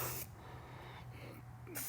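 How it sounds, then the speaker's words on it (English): Aerosol spray grease hisses in two short bursts, one at the start and one at the end, close and alone, during crank seal replacement on a 2023 KTM 300 XC dirt bike. "I really like this spray grease. It goes on like an aerosol and then it sets up."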